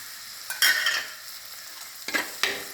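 Tomatoes and green chillies for a fish curry sizzle in a hot pan, with a few sharp stirring scrapes breaking through the steady frying hiss; no voices.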